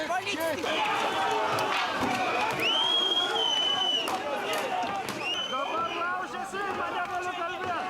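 A loud, dense crowd of rioting protesters outside the Seimas parliament building in Vilnius keeps up continuous shouting and babble, with sharp whistles and scattered bangs and thuds.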